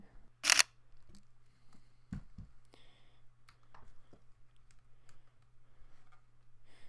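A Sony A7 III mirrorless camera fires its shutter in a quiet room, a sharp crisp click near the start followed by a couple of softer mechanical clicks and small handling ticks.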